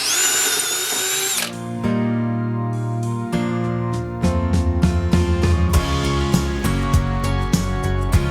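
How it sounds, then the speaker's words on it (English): A power drill bores screw holes into 2x4 lumber, whining at high speed, then slowing into a series of ratcheting, grinding bursts as the bit works through the wood, close and loud without talk. "he is drilling holes into them"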